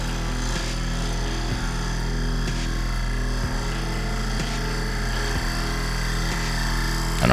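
A lathe gouge makes a gentle cut on a claret ash live edge bowl, giving a steady, continuous scraping hiss over the low motor hum with soft periodic ticks as the uneven rim passes.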